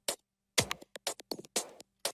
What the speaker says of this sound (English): Another percussion loop.